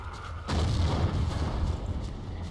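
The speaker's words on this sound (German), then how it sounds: "Hier eine kleine Granate." Grenade blast in the World War II shooter Battlefield 1942 on the Guadalcanal map: a sudden loud boom hits about half a second in, then a dense, rumbling roar with crackling debris sustained to the end.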